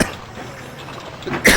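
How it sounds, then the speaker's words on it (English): One harsh, close cough bursts out at the very end, loud and sudden, after a stretch of steady game background sound, with no talking. "Sorry about the cough."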